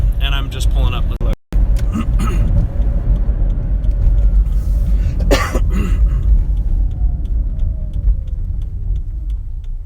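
A truck drives along a road near This Is the Place Heritage Park, heard as a loud, continuous engine rumble and road noise with a swell of passing sound midway, while someone talks over it.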